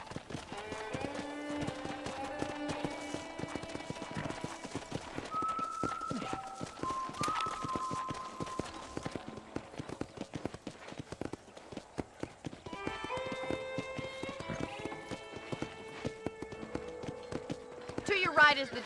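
Horse hooves clip-clop at a steady riding rhythm around a ranch in the video game Red Dead Redemption, the hoofbeats repeating close and clear throughout, layered with tonal game music and a voice.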